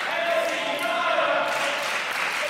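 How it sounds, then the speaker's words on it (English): A wrestling match crowd cheers in a steady, dense roar of voices and applause that runs through the whole moment without a break. "Crowd now firmly behind Dyer"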